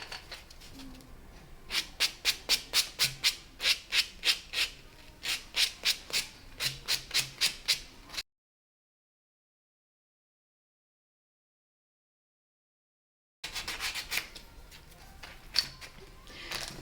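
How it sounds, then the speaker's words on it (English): A buffing block rubs across a fingernail during a manicure, making repeated short, brisk scratchy strokes in quick rhythmic runs, close and fairly faint, with a gap of silence midway before more strokes. "Next, we are going to buff the nail using our buffing block."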